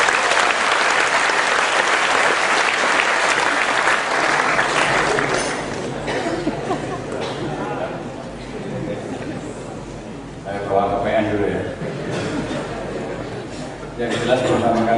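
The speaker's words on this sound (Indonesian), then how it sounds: "Bushra Muqaddas, tepuk tangan semua." Audience applause at an anti-corruption music event in Indonesia, a dense, loud burst of clapping that fades to scattered claps and crowd chatter, then swells briefly again near the end.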